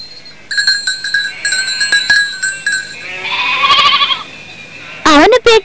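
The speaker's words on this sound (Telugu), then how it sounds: "ఇది ఎవరి మేకపిల్ల?" A cartoon goat kid bleats in wavering cries after a run of bright, bell-like tones, and a voice starts speaking at the end.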